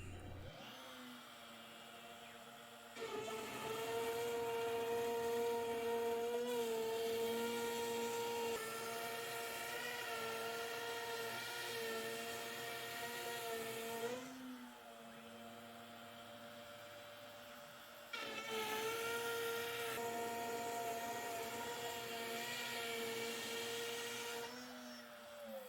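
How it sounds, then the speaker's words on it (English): A NymoLabs NBX-5040 CNC router cuts with a 1/8 inch downcut bit, giving a loud, steady high-pitched whine with a droning motor hum, pausing briefly twice before the cutting resumes. "I'll put the 1/8 inch downcut bit back in and finish cutting out the rest of"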